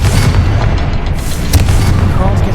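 Confringo fire spell exploding in Hogwarts Legacy, a loud, continuous booming roar with crackling bursts that fills the whole moment.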